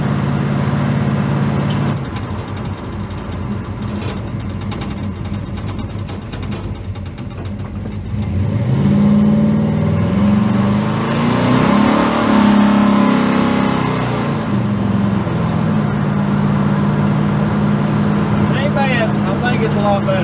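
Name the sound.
car engine under part throttle, cruising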